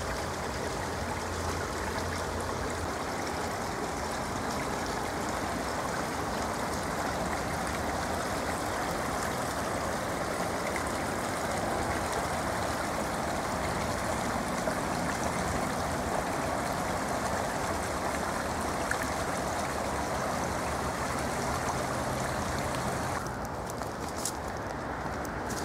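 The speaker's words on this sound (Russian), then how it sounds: "А вот слышен шум водопада. Там небольшой водопад." A small waterfall on the Sovka river pours in a continuous, even rush of falling water, heard from nearby as a soft, unbroken hiss without any voices.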